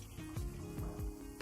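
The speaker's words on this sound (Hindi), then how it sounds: "यहाँ पर पानी को उबाल आ गया अच्छी तरह से" Water coming to a rolling boil in a covered pot for prawn rice pulao, a steady bubbling hiss with soft irregular pops, heard close and alone.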